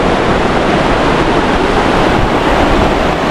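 A mountain jungle river in Arunachal Pradesh rushes steadily, its loud, continuous broadband roar of flowing water close by, with no voices.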